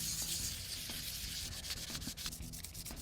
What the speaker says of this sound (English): This is like 400 grit wet or dry sandpaper. I'm just going to smooth out this edge.